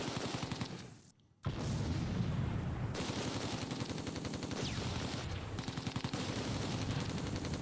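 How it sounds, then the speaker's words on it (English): Mortar or tank round explosions and gunfire in the Close Combat 2 tank battle game, dense crackling bursts and rapid machine-gun rattle, loud and close, with a brief lull near one second and no voices. "Was that a mortar or a tank round that got real close?"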